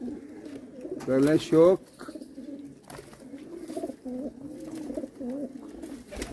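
Pigeons kept for sale coo in low, rolling bursts, with a louder run of calls early on and softer cooing continuing beneath a man's close speech.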